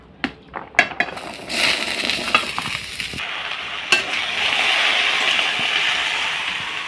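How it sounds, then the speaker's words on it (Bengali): Chopped, washed vegetables go into a hot wok, a few clattering knocks and then a sustained loud sizzle with scraping and stirring sounds, and no talking. "কড়াই গরম হয়ে গেছে, কেটে ধুয়ে নেওয়া সব সবজিগুলো দিয়ে দেব।"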